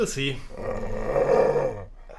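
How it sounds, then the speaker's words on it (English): A dog in a movie scene growls in a low, rumbling snarl that lasts over a second, close and moderately loud, with brief voice-like sounds at the start. "Say, Jimmy, since when do you have a dog?"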